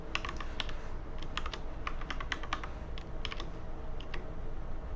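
Steady fingertip typing on a computer keyboard, a quick irregular run of crisp clicks and taps lasting several seconds, close and clear with no voices over it.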